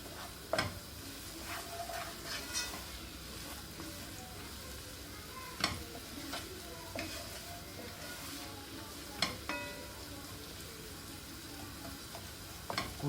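Salted onions sweating in a pan give a soft, low, continuous sizzle, with a few sharp utensil clicks and stirring taps scattered across it. There is no speech.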